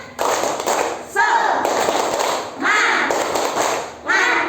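Children in a primary school classroom perform a rhythmic group clapping cheer, with steady clap bursts mixed with young voices chanting together, loud and close.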